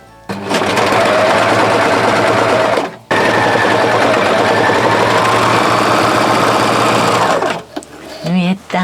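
A sewing machine stitches a men's yukata fabric to stretched rib knit, its motor whirring loud and steady in two long runs, split by a brief pause, then slowing to a stop near the end.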